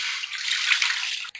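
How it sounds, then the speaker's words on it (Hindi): Water pours in a steady, splashing stream into a pressure cooker to make yakhni for a beef pulao, close and continuous for about a second before cutting off abruptly. "प्रेशर कुकर के अंदर मैं डाल दूंगी यखनी के लिए पानी"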